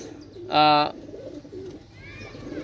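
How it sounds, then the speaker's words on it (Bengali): A Pakistani golden female pigeon gives one loud, resonant coo near the mic, with softer bird chirps following over a background murmur. "আর গোল্ডেন মাদিটা আপনারা দেখতেই পাচ্ছেন, অনেক সুন্দর কবুতর।"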